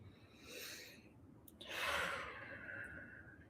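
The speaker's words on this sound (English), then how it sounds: "Breathing in through the nose," Slow, deliberate inhalation through the nose during a guided breathing and meditation practice, a soft airy rush that swells and fades twice, the second breath fuller and louder, close and quiet with no talking.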